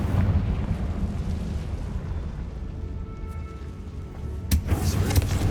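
Confringo explosive spell from Hogwarts Legacy, a rumbling fiery blast that rolls on for several seconds, then a sharp crack and renewed burst near the end, loud with no talk.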